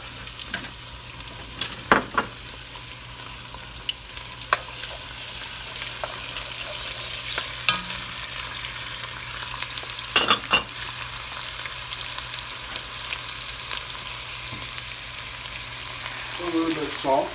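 Onions and garlic fry in a pan for a spaghetti dish with mussels and shrimp: a steady close sizzle with sharp utensil knocks and scraping stirs, plus a brief cluster of clatter near the middle.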